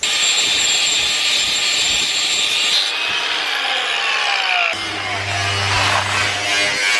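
Metal grinding on a go-kart frame being modified for an electric motor: a loud, continuous abrasive whine and rasp whose pitch shifts and drops as the tool is worked, then picks up again with a deep rumble.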